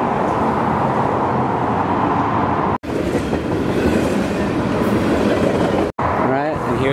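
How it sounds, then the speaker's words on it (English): A freight train rolls by on tracks in the American West, a loud, steady rumble with rhythmic wheel clatter filling the whole stretch close by, briefly cut twice. "there's a train rolling by right now"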